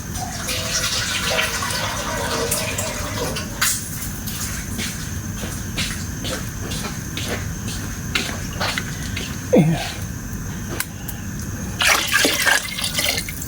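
Water splashes and runs steadily into a cooking pot being filled for macaroni soup, with scattered clinks and drips, close and continuous throughout.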